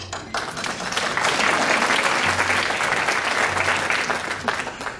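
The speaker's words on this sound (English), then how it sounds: "Next, let's applaud." Applause from a luncheon audience at a business awards event, a sustained wash of many hands clapping that swells and holds steady throughout.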